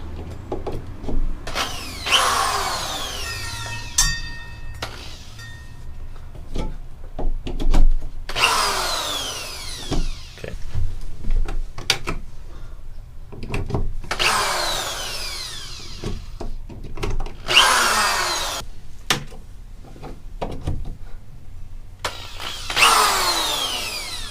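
A power drill runs in several short bursts on a homemade motorcycle trailer camper build, its whine rising and falling in pitch, with pauses and clattering handling noise between, close by.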